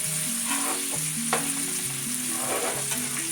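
Bacon frying in a pan over medium heat gives a constant, close crackling sizzle with faint stirring, and a soft stepping melody plays underneath.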